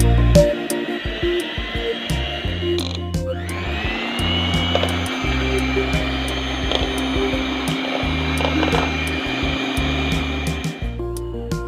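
An electric hand beater whirs steadily as it creams butter for an eggless, no-oven Christmas plum cake. The motor drone is close and loud, pulsing with short bursts early on, then running continuously to the end with no talk.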